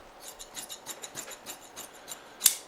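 Scissors cutting upholstery fabric for an arm cap, a rapid run of small crisp snips and rustles, close and quiet, ending in one sharper snap, with no talking.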